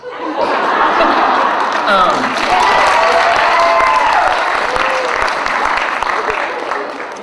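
A church audience breaks into loud clapping mixed with chuckles and scattered laughter, a dense crowd sound sustained throughout with some murmured voices underneath.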